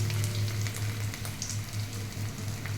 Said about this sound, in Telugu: ఆ గోంగూర ఇక్కడ ఆయిల్లో వేసుకోవాలి